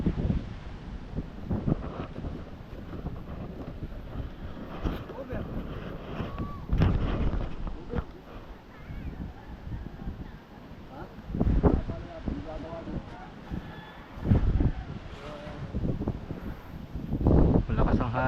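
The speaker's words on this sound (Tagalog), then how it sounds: "Malakas ang hangin." Strong typhoon wind gusts in bursts with heavy microphone buffeting and rustling, while people talk intermittently close by.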